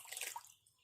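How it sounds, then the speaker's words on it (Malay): Water poured from a one-litre scoop into a container: a brief close splash and gurgle that quickly fades, quiet overall. "air diisi sebanyak 5 liter"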